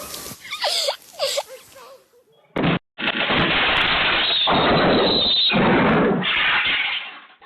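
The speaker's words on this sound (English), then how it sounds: "One wrong hit triggered an explosion" After a few brief sharp cries, a loud burst erupts as a worker's hit triggers an explosion, becoming a sustained roaring blast that fills the scene for several seconds.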